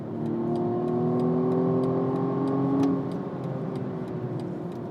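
2020 BMW M135i xDrive hot hatch accelerating hard at speed, a sustained engine tone rising steadily in pitch before a brief dip, heard loud from inside the car with faint regular ticking.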